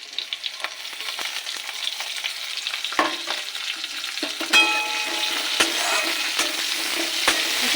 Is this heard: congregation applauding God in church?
no